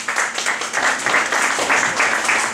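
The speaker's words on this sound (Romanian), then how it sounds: "le mulțumim tuturor și aplaudăm încă o dată pe toți" An audience at a singing contest event in Cluj claps in a dense, continuous round of applause, loud and fairly close, with faint voices mixed underneath.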